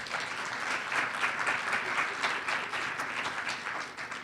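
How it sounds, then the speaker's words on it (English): An audience at a New Jersey talk on small-house nursing homes gives steady, moderately loud applause, a continuous rush of many hands clapping with slight swells, heard from a middle distance. "I think that deserves a round of applause."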